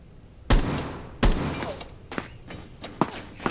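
Single DMR rifle shots in Rainbow Six Siege: two loud, sharp reports, each with a decaying tail, then several lighter, quicker bangs and thuds at irregular intervals.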